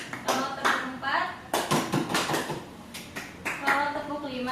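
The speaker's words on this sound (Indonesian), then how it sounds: "kalau tepuk 4" Four sharp hand claps from a classroom group follow a teacher's call for a clapping pattern, with speech between and around the claps.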